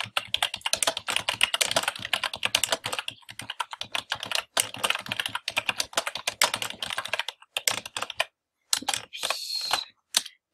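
Typing on a computer keyboard, quick bursts of close, crisp key clicks with short pauses between them, and no talking.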